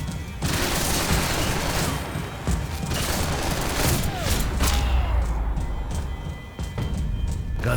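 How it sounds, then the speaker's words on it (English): Gunfire in the video game Max Payne 3, set over Hoboken: dense, continuous bursts of shots and booming impacts fill the whole stretch, loud and chaotic with rapid cracks layered over heavy low rumble. "Gunfire over Hoboken."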